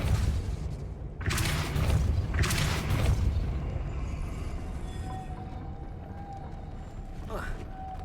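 A spell cast in Hogwarts Legacy lands as a few heavy booming blasts, each with a rushing burst, followed by quieter rumbling and faint chimes.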